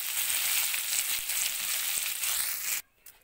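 Large tiger prawns (bagda) frying in a generous amount of oil in a kadai, a steady close sizzle that runs for nearly three seconds and then cuts off abruptly into near silence.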